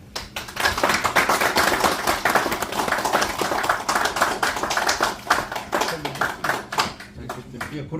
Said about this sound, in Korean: 박수로 네.